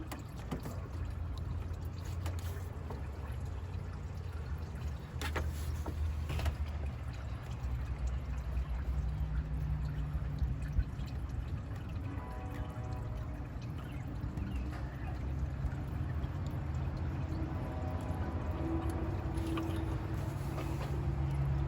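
Coolant drains slowly from a Jeep's aluminum engine block in a parking lot, a steady, continuous trickle and pour of liquid running for the whole stretch at moderate level with faint background noise.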